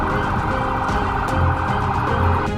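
An ambulance siren sounds at a farewell for an ambulance driver, wailing loud and steady throughout with no talk over it.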